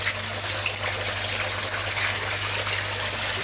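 Water pours steadily through the overflow pipe of a homemade recirculating aquarium system for fish, giving a constant close rushing trickle with a low hum underneath.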